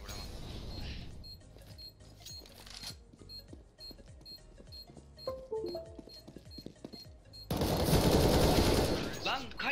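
Rapid bursts of gunfire in a first-person shooter, crisp repeated shots fired through a wall in quick clusters, with metallic clicks between volleys and a louder rush of noise near the end.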